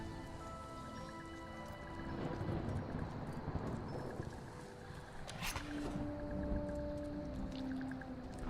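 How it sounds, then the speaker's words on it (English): Steady rain with a broad hiss fills a thunderstorm in the video game Smalland, joined by low rumbling and scattered higher tones, continuous and moderately loud throughout with no talk. "I hear a storm a-brewing."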